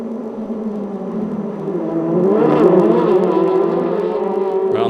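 Formula Renault Eurocup race cars at the Red Bull Ring, a steady high-revving engine whine and buzz that swells in pitch and loudness as the cars pass, continuous throughout with no talk.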